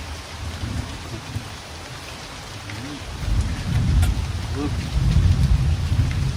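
Heavy rain pours steadily, growing louder over several seconds, with a low rumbling undertone and faint voices beneath the downpour.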